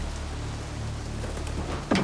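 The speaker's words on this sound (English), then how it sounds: "It's raining now." Rain falls steadily in the Spider-Man 2 video game, a constant broadband hiss with a low background hum underneath, ending in a brief louder burst.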